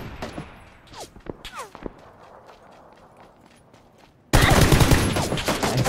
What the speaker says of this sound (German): Pass auf, von hinten schießt auch mehr.